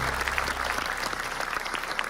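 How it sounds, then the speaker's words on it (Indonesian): A studio audience on an Indonesian entertainment show applauds, a continuous dense clapping that stays steady and fairly loud for its short length, with no speech over it. "Tepuk tangan Ya, buat Mas Kaisang."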